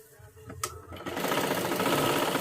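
A sewing machine starts up and stitches fabric while a top and salwar are sewn, a steady close, rapid mechanical whir after a few brief clicks.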